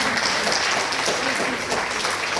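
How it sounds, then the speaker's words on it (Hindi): A large crowd at an International Women's Day event in India claps loudly and steadily, a dense continuous burst of applause throughout. "इनके लिए जोरदार तालियां बजाइए"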